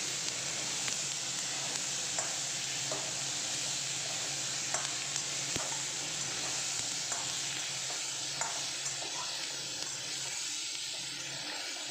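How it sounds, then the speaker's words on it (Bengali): Chopped onions and potatoes frying together in a pan give a steady, close sizzling hiss, with occasional light scrapes and taps as the mix is stirred. "এখন পেঁয়াজটা আলুর সাথে একদম সুন্দর করে আমি ভাজা ভাজা করে"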